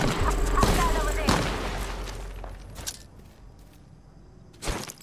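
Enemy gunfire in the video game Apex Legends, a burst of loud shots and booms at first that fades to quieter background, then another sharp blast near the end, with a voice talking over it.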